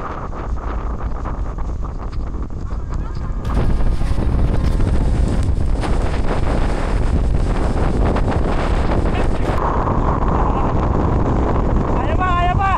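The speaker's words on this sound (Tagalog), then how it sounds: "biglang lumakas ang hangin na may kasamang ulan" A sudden squall of strong wind with rain hits a camp in Zambales, a loud, dense roar of gusts battering the microphone that intensifies partway through, with voices calling out near the end.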